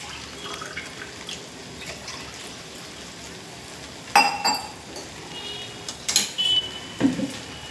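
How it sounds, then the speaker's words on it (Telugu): Water poured from a glass into a pot of chicken, prawn and egg biryani, a soft trickle with a few sharp glass clinks and splashes in the second half, close by and with no talk. "ఇప్పుడు గ్లాస్కి 2 గ్లాసులు చొప్పున 4 గ్లాసుల వాటర్ వేసుకోవాలండి."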